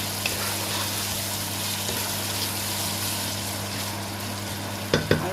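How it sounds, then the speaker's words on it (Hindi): Minced meat with chopped potatoes frying in a pan for aloo matar keema: steady close sizzle and hiss with a low hum beneath, ending in a few quick scraping stirs. "अब हम इसके अंदर जो हमने आलू काट के रखे थे वो हम इसमें ऐड करेंगे और फिर इसको हमने अच्छे से भूनना है"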